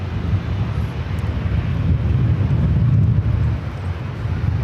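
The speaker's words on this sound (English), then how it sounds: "This is Aeromexico 647. We'll be taking off to Mexico City on the 787-8 Dreamliner." Aeromexico Boeing 787-8 Dreamliner on its takeoff roll for Mexico City at Los Angeles LAX, a steady low engine roar with wind buffeting, fairly loud and continuous without voices.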